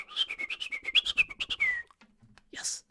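A person whistles a quick, tuneful run of short rising and falling notes in a quiet room, then breaks off into brief soft rustling and a faint breathy sound.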